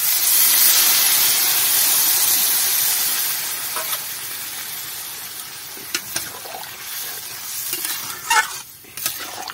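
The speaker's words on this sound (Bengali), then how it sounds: "এবার আমি জল দিয়ে দিচ্ছি।" Water hits a hot pan of cooked, spiced chicken with figs and potatoes, letting out a loud rushing hiss and sizzle that slowly settles into softer bubbling with a few stirring knocks, close up and without talk.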